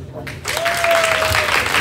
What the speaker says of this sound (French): Alors applaudissez ça.